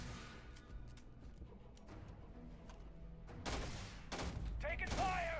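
Gunfire in the space game Starfield erupts in loud broadband bursts late in the moment, two or three heavy shots over a steady background of game ambience and rumble.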